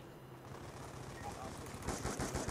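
Sentry gun firing rapid automatic bursts in Black Ops 2, a dense rattle of gunfire that grows louder near the end, with a voice talking over it.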